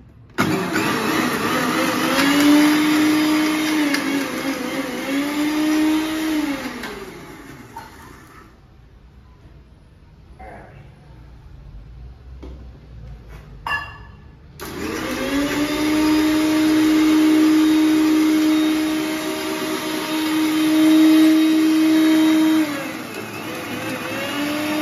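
A mixer grinder grinding ingredients with a pungent pinch of asafoetida in a home kitchen, loud whirring in long bursts that pause for several seconds, then resume with a steady high motor whine.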